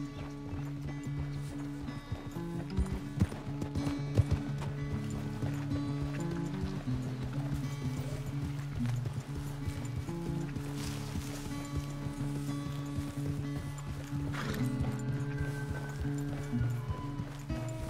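Horse hooves clip-clopping at a gallop in Red Dead Redemption 2, a rapid steady rhythm running throughout beneath game music, with faint occasional speech.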